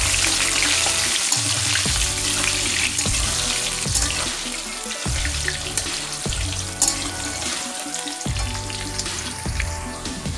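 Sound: diced potatoes frying and being stirred

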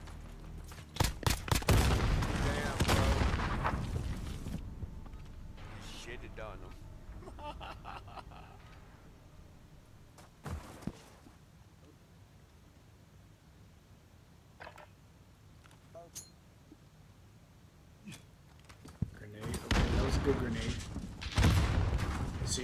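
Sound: gunfire and grenade in Call of Duty video game

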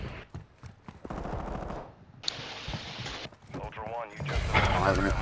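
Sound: gunfire in video game Call of Duty DMZ

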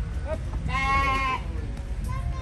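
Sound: sheep bleating as they approach

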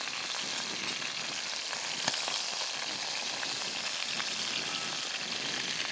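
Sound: frying sizzle in oil in a pot

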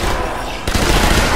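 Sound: submachine gun fire in the video game Zombie Army Trilogy

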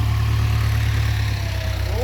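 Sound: old Ford truck engine revving

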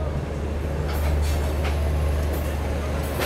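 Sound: Garib Rath Express train departing Hazrat Nizamuddin railway station

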